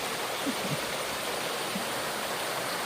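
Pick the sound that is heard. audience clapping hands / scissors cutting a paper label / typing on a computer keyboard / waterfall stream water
waterfall stream water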